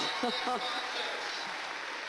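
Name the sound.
crowd cheering at Crufts dog show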